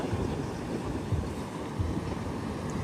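A rough, churned-up sea on the Karnataka coast after a full day of heavy rain, heard as a continuous low roar of surf with wind buffeting the microphone throughout.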